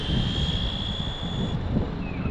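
A Wltoys 124019 RC car on a 3S battery gives a steady, high electric motor whine under light throttle, holding an even pitch with a low rumble beneath, fairly faint and without voices.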